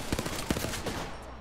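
Gunfire in the battle royale shooter Apex Legends, a quick burst of several sharp shots in rapid succession over about a second, loud and close.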